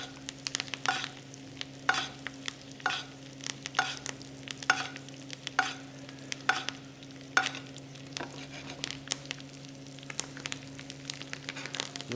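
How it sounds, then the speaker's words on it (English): Quail sizzles steadily in butter in a frying pan while a spoon basts it, scraping and clinking against the pan in a regular rhythm, close by with no talking. "Give that another little baste."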